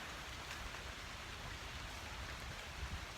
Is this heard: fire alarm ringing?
no